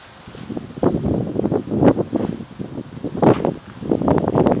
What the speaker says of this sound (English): The wind is slowly picking up.